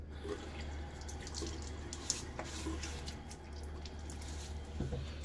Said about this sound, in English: Get my face a little wet.